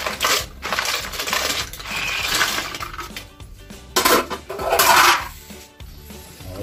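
Snails (kuhol) tipped into a pot of coconut milk, a run of hard shell clatters and clinks against metal in bursts, close and fairly loud, no voices.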